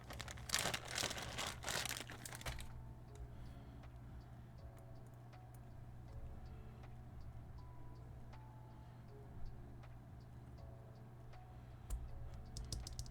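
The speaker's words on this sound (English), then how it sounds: "those switches sound nice" Typing on a custom Aeroboard70 mechanical keyboard fitted with GMK Amethyst keycaps: faint, quick clicky keystrokes rattle steadily against a low background hum, after a brief louder burst of handling noise at the start.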